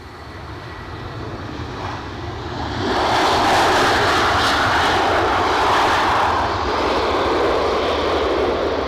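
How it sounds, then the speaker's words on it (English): Airplane landing at Edinburgh Airport in a gusty headwind, a loud engine roar that swells over the first few seconds and then holds steady and close, with no talk. "Oh, there's a plane coming."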